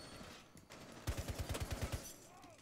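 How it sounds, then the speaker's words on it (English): Rapid burst of gunfire in Rainbow Six Siege, about nine quick punchy shots in a steady automatic rhythm over a faint background hum. "Again, with the random shooting at teammates."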